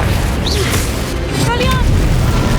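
Confringo fire spell explosions in Hogwarts Legacy, with whooshing booms and crackling bursts layered over continuous game sound effects and combat noise.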